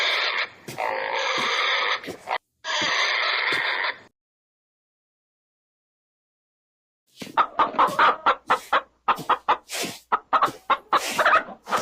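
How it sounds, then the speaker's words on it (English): A hen crows and clucks loudly, first a long drawn-out call, then after a silent gap a rapid series of sharp, close clucks. "Hen,"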